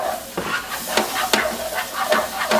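Flour and butter roux for a lobster thermidor sauce is stirred in a pan, with rhythmic scraping strokes over a light sizzle, close and clear.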